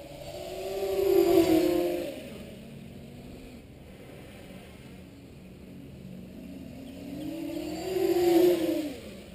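A tricopter with motors pulling 60 amps at full throttle flies fast past trees, a whining buzz that swells loud twice as it passes close, then fades between passes.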